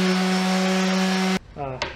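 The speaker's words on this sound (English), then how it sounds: "So I'm going to sand them right away." A power sander works over the freshly glued joints of a wooden shelf, a loud steady whine for over a second that cuts off abruptly, leaving brief rubbing and a short voice-like sound.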